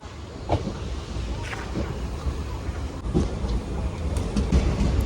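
A moving train rumbles steadily with a deep, continuous roar, occasional clatters and knocks rising above the constant low noise.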